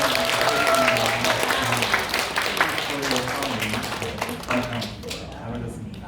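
A church congregation at a Korean Baptist Sunday service claps to welcome newcomers, a sustained round of applause that tapers off near the end, with some voices mixed in.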